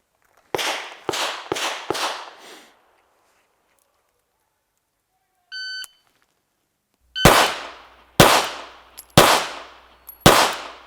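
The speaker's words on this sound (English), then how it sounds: "So now we're going to shoot at support hand, okay?" Handgun shots fired one-handed with the support hand on a shooting range: a quick string of four sharp, loud cracks, a short electronic beep, then four more evenly spaced reports, each with a brief ringing decay.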